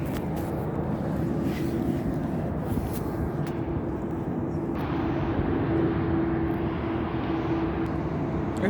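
A United CRJ regional jet passes with a steady, broad engine roar that holds fairly loud and even throughout, its tone shifting slightly midway.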